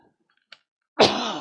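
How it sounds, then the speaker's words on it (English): A man's single cough, a short harsh burst near the mic that trails into a throaty rasp, after a tiny earlier click and silence. "I need to cough a sec."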